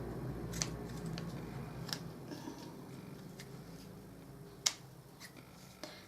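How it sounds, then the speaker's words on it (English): Scissors snip off the ribbon ends of a bow on a handmade get well card, giving a few sharp, faint clicks and cuts spread over a quiet room. "So just pull your bow till you have it where you want it and trim off."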